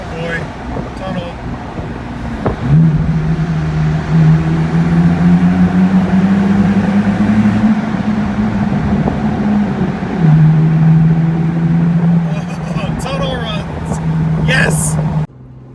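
A BMW Z4 on a road trip near Cincinnati rolls through a tunnel, with a steady loud low drone of road and engine noise that echoes throughout, and voices speaking over it.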